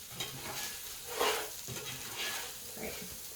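Onion, garlic, rice and dried spices sauté in a pan for Spanish rice, giving a soft, steady sizzle with a few brief louder swells of stirring, fairly quiet throughout.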